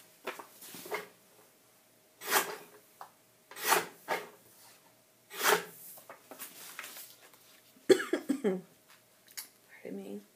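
A person with an allergy or cold coughs several times in a row, short and fairly close, with rustling between the coughs and a brief burst of throat noise near the end.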